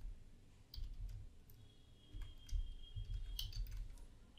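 Quiet clicking keystrokes on a Mac keyboard as a terminal command is typed, a soft irregular run of taps heard alone at a low level.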